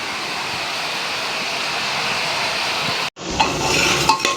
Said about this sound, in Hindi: और यहाँ मम्मा जो है चाय बना रही है शाम के टाइम में।